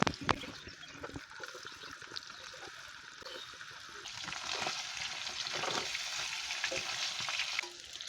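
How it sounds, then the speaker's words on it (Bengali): Paneer fries in hot oil in a kadai, a soft continuous sizzle with occasional scraping stirs, growing slightly fuller toward the end. "পনিরটা ভাজা হয়ে গেছে, এখন তুলে নেব"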